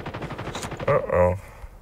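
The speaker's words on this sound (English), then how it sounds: "Somebody's friendly shooting somewhere." Bursts of gunfire in Call of Duty Mobile, played on an iPhone, with rapid automatic shots clustered in short loud volleys, the last one near the end of the moment and fairly close.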